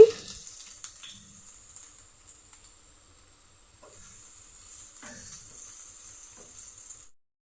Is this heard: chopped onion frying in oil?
yes